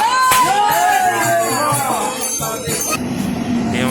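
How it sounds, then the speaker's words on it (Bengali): A train pulling into a busy Indian station platform bound for Howrah, with squealing wheels and rumbling carriages amid a loud crowd, voices talking over the clamour. "আমাদের ট্রেন চলে এসেছে"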